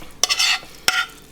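Ground meat mixture for a puff-pastry lasagne is scraped from a pan onto pastry in two short bursts of scraping and sizzling, close and fairly loud, with quiet pauses between and no talking.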